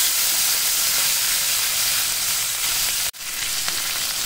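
Capsicum frying in a pan over a low flame for a chilli baby corn and mushroom snack, a loud steady close sizzle with a brief break and a few stirring scrapes.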